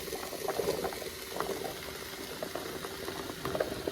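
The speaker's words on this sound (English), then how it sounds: "Now I'm going to go ahead and add in my potatoes." Potatoes going into a pot of bubbling liquid for potato soup, a close, steady simmer with soft pops and plopping splashes scattered through it, no voices.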